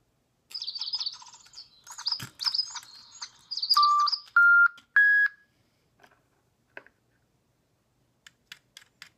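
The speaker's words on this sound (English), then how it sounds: "I'm going to turn this bird onto solo mode." An electronic toy bird in solo mode sings a run of synthetic chirps and trills, then clear rising beeps, followed by a few faint ticks and clicks after a pause.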